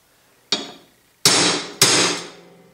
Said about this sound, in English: You always take a center punch.